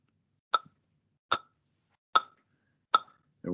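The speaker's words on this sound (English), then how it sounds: "Here's our metronome." A metronome ticks four times at a slow, even pace of about one click every 0.8 seconds, each tick sharp, clear and close. A short tonal sound begins right at the end.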